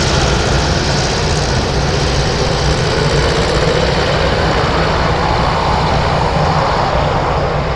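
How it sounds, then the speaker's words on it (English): A Boeing 747 jet roars loudly through its takeoff at Anchorage airport, a steady, powerful, broadband engine rumble that fills the whole stretch without a break. "747 takeoffs."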